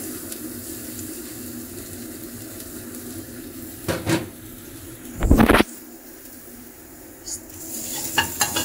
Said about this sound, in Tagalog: mainit na yung kawali. So, ilalagay na natin yung bawang sa kaluya